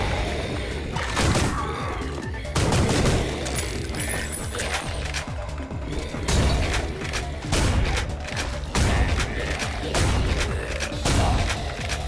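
Shotgun blasts in the first-person shooter Ion Fury, heavy booming shots repeating roughly every second or so amid game effects and background music, loud and punchy.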